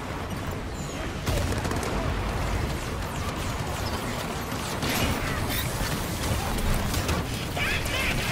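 Continuous gunfire and explosions in the video game Halo 5: Guardians, dense and loud throughout, with rapid bursts layered over a rumbling battle background while players talk over it.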